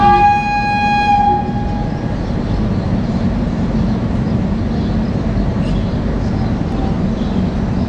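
Amritsar–New Delhi Shatabdi train pulling out of Beas Junction, opening with a loud, sustained horn blast that fades after about two seconds, followed by a steady, heavy rumble of rolling wheels and coaches.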